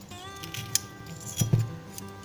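Scissors cutting deco mesh for a farmhouse lantern craft, a few quiet snips close up in a calm room.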